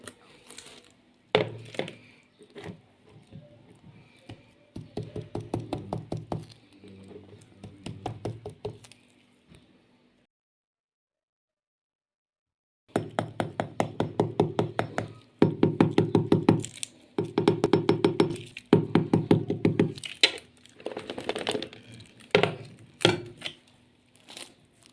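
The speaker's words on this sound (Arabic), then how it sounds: "شوفوا القطايف طلعت مقرمشة قد إيه معانا النهارده" Crisp crunching and crackling bursts close up from crispy qatayef pastry, a stretch of irregular crunches, a brief silence, then denser repeated crunching, with no talking.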